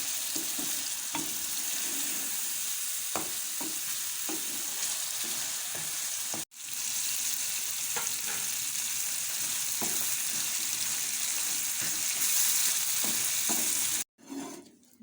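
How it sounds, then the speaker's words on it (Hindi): Roasted brinjal fries in a pan for baingan bharta, a loud, steady sizzle with repeated soft scraping stirs and two brief cut-outs, with no voices. "ये रोस्ट किए हुए बैंगन डालने के बाद हम इसको 1 से 2 मिनट तक फ्राई करेंगे"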